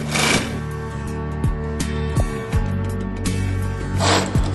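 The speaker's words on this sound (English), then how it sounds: "These are the old, original gloving machines" Old original gloving sewing machines run in a glove-making workshop, giving a steady mechanical hum with repeated stitching thumps and short clattering bursts, fairly close.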